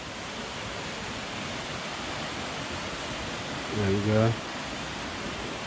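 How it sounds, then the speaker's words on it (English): A waterfall seen through boulders on a countryside crag walk, a steady broad roar of falling water with someone speaking briefly over it. "the waterfall"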